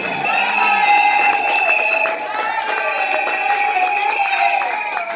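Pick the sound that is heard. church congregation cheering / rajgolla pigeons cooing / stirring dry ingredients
church congregation cheering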